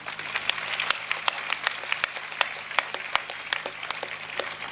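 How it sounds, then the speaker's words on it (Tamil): A live audience at a Tamil comedy debate show applauds steadily: dense, even crowd clapping that runs throughout at moderate level with no talking. "நல்லா ஒரு தடவை கைதட்டுங்க பார்ப்போம்."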